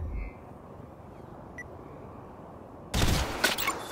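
Auxiliary weapons fired from an Iron Man VR gauntlet at practice targets, a sudden loud blast near the end after a quiet hum, with a brief high whine just before it.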